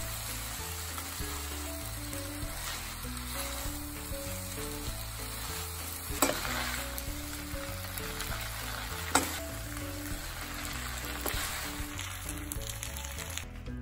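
Hakka-style wheat noodles are tossed and stir-fried in a pan, a steady soft sizzle with occasional scraping and clinking of a utensil against the metal, close and fairly quiet.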